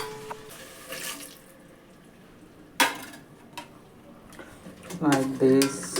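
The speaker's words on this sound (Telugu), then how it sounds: "బటన్ 2 నీళ్ళు పోసుకుంటే సరిపోద్ది" Water is poured into a rice cooker holding onions, tomatoes and spices for chicken biryani, with splashing and clinking pot sounds in short bursts, close and moderately loud, while a person talks.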